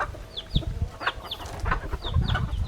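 Roosters clucking and calling close by, several short bird calls scattered over steady farmyard background noise.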